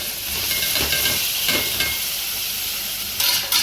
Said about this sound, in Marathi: मस्त असा घाटून घेऊया